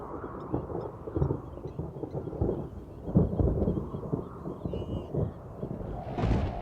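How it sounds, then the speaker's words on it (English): Storms approaching over the Liuwa plain bring a low, rolling thunder that rumbles continuously at a distance, swelling and fading, with some wind noise and no talking. "I can also see the first storms approaching."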